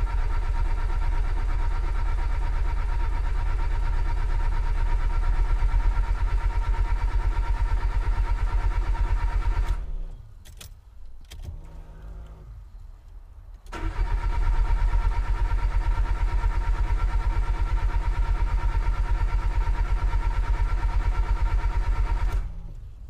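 A car engine converted with a special E85 fuel pump module runs with a steady, low idling hum, drops out briefly partway through, then settles back into an even idle.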